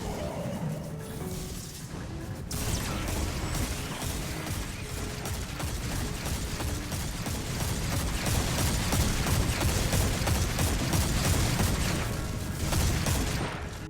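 Rapid gunfire from the Dead Man's Tale exotic weapon in Destiny 2, a dense, loud stream of shots with mechanical clatter running nearly unbroken across the stretch, briefly thinning near the start and end.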